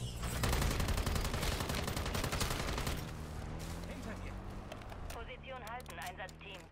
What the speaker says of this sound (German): Warte mal kurz, ich schieß mal kurz.